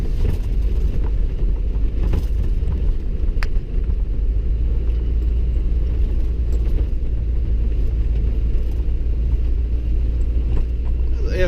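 A Ford F-250 pickup rolls slowly through snow on a Louisiana road, a steady low engine and tire rumble running throughout, close and continuous.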